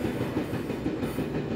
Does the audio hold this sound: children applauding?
no